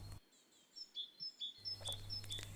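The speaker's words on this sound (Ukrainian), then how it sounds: "Так, малятка, це синичка." A tit calling outdoors, a series of short high chirps and thin whistled notes repeating in quick bursts over a quiet background with a faint low hum, no speech.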